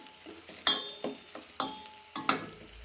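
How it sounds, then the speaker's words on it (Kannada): Onions frying in oil in a home kitchen pan, a soft steady sizzle broken by about five sharp scraping stirs spaced roughly half a second apart, close and moderately loud with no voices. "ಈಗ ಉಳ್ಳಾಗಡ್ಡಿ ಚಲೋ ಫ್ರೈ ಆಗುತ್ತೆ ಈಗ ಎಣ್ಣೆ ಒಳಗೆ"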